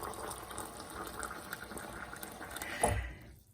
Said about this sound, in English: you boil your kettle and then you pour the water